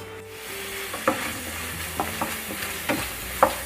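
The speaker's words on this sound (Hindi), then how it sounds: "और अब हम इसे जब तक भूनेंगे लो से मीडियम फ्लेम पर, जब तक इसमें से ऑयल सरफेस ना होना शुरू हो जाए" Tomato masala fries in a pan over a low to medium flame, giving a steady soft sizzle broken by several sharp spoon scrapes and taps as it is stirred, close and with no talking.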